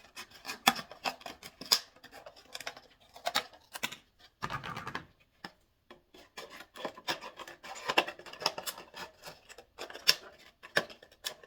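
Scissors snip off parts of a bottle while shaping a center for a large rose or peony flower: faint, close, irregular cuts and rustling scrapes with short pauses between them.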